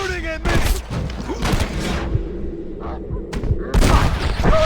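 Gunfire in Red Dead Redemption during a shootout, with loud rifle and pistol shots cracking in clusters, some single reports and a heavy volley near the end, while someone shouts over the fight.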